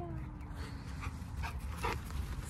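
A dog pants softly and steadily while a steel drum plays faintly in the background and people talk nearby.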